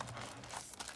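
Plastic wrap around a Keychron K2 mechanical keyboard crinkles and rustles during unboxing, a soft, close, continuous crackle lasting about a second with no talk.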